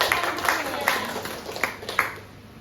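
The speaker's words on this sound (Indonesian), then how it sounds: "beri tepuk tangan untuk Bono" Scattered applause from a small group of seated participants at a school training session, clapping for a colleague named Bono; a handful of sharp, uneven claps close by, moderately quiet, with no one talking over them.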